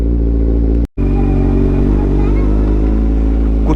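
Kawasaki Ninja 1000 motorcycle with an Austin Racing full exhaust on a city street, a loud close-up engine burble with a brief dropout early on, then steady rumbling revs.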